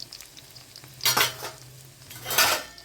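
Peeled garlic cloves drop into hot oil for a Tamil garlic kuzhambu and are stirred, making two loud bursts of sizzling with a spoon scraping the pan between them, close and without talk.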